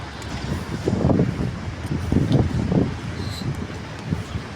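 Wind blowing in gusts across an outdoor microphone, rumbling and swelling in low buffeting surges with faint rustling in the background.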